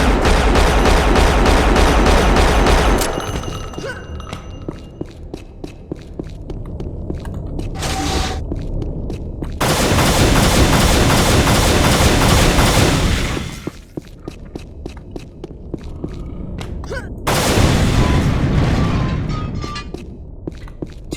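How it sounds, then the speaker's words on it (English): Tarydium cans blow up in the video game Unreal: heavy, loud explosive booms burst out in several long, dense waves with short pauses between them, over a constant game background. "Teridium exploding can."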